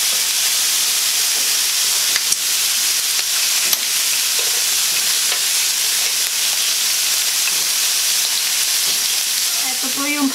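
Beef cooking on a samgyupsal grill gives a steady broadband sizzle that hisses continuously throughout, with a few faint clicks and a brief voice near the end.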